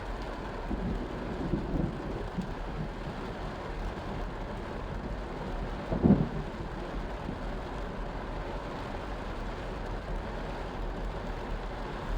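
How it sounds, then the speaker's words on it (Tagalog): Heavy rain pours steadily in a dense, unbroken hiss, with a brief low rumble partway through. "grabe itong ulan na to"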